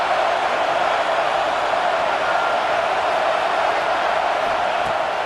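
A steady, dense stadium crowd roar from EA College Football 26, with the Arkansas Razorbacks at home, holding an even level without breaks or swells.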